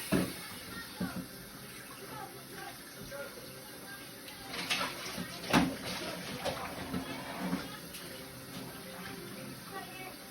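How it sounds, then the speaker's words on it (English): Hands are washed under a running kitchen tap to rinse off red food colouring: a faint, steady splash of water with a few louder sloshing bursts. "I had to wash my hands because I have that red food coloring on it."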